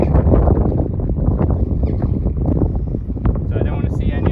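Strong outdoor wind buffets and roars across the microphone in dense, gusty low rumbles throughout, loud and close, with a brief higher tone near the end.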